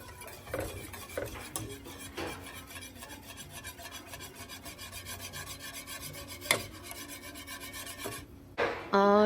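Coconut cream pie filling is stirred in a pot over heat, soft repeated rasping and scraping strokes along the bottom, close but quiet, with a few sharper knocks of the utensil.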